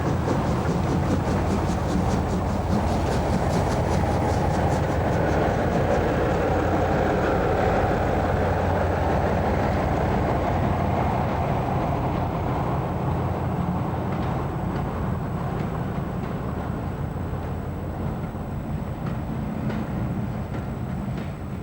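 LNER express steam locomotive hauling a passenger train out of Marylebone, heard as a steady, moderately loud rumble of the train running along the track, with no distinct exhaust beats.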